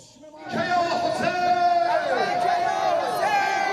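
A large, loud crowd at a rally in Beirut roars and chants in unison, a dense wall of voices swelling in after a quiet start and holding steady with sustained shouted tones.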